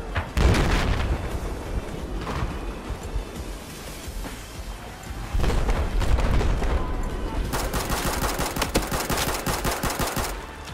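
Rapid gunfire from a first-person shooter video game, with dense bursts of automatic shots and booming blasts running almost continuously, loud and close, with a second heavy volley near the end.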